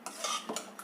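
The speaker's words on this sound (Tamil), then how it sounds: "கடைஞ்சிக்கிறேன்." Cooked greens with tomato being mashed in a pot, giving a short run of soft scraping and clinking strokes against the metal, close and fairly quiet, with no voices.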